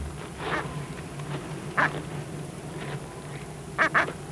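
A penguin in Antarctica makes several short, honking calls at uneven intervals, with a quick double call near the end. A steady, windy background rumble runs underneath.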